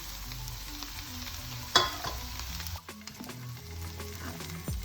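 Chickpeas are stirred with dry masala spices in a hot frying pan with ghee and oil, giving a steady sizzle. A spatula scrapes with a few sharper clacks against the pan, close up, with no talking.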